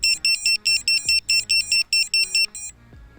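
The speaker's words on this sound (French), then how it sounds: "le buzzer prend largement le dessus vu le son qu'il fait" A Vifly Finder 2 standalone buzzer on a Sector 5 V3 drone shrills in rapid piercing beeps, about a dozen evenly spaced bursts close up, then cuts off, leaving a quiet click.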